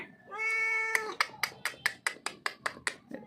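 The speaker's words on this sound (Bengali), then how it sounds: "এ বাসায় একটা বিড়াল এসেছে" A cat gives one long, drawn-out meow, then a quick run of about ten short, sharp meows in steady rhythm, close and fairly loud.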